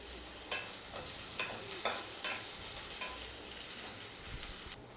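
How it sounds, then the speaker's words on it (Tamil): Onions and curry leaves fry in oil in a pan for Tamil kulambu, making a continuous close sizzle broken by repeated scraping strokes of a spoon stirring, with no voices. "வெங்காயம் நல்லா பொன்னிறமாக வணங்கிருச்சு."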